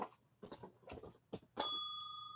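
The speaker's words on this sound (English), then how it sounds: "Oh, I'm already ringing the bell." An auction bell is struck once during a live record auction, leaving a bright, ringing tone that lingers and slowly fades, right after a burst of short knocks and handling sounds.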